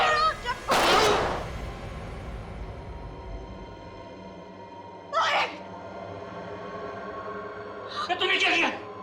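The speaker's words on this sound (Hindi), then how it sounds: "तेरे वजह से गोली चल गई।" A sharp, loud burst near the start, like a gunshot, followed later by two shorter bangs over a low steady background hum.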